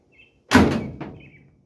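A 1956 Chevy car door, its latch freshly adjusted, swings shut with one loud, solid thunk and a quick latch click, close by, with faint birdsong in the otherwise quiet background.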